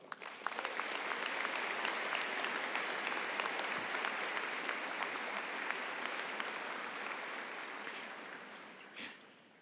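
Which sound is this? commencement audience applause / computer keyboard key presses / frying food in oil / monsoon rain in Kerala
commencement audience applause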